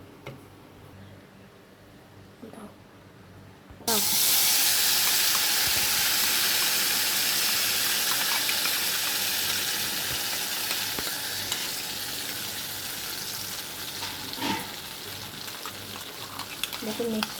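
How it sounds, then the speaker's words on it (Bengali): Ground spice paste for paneer butter masala drops into a hot kadai after a quiet start, bursting into a loud, continuous sizzle and hiss that stays strong to the end, close up. "এবার এটা আমরা কড়াইতে দিয়ে দেবো।"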